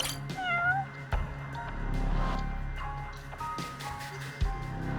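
A cat meows in the video game Judgment, with a few clear nearby meows over steady game ambience and music.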